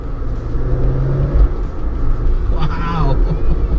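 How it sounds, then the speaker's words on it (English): A 2020 Jeep Wrangler Rubicon with a 2-liter engine accelerating on a first drive, a loud low engine rumble rising in pitch with road noise, and a voice exclaiming over it near the end. "It's a very responsive powertrain. 2-liter, maybe a small engine, but the performance is amazing with this mammoth body."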